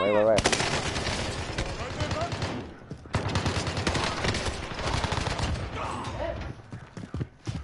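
Rapid bursts of gunfire from a video game firefight, loud and dense, with cracking shots packed in volleys that break off briefly before resuming, and voices talking over them.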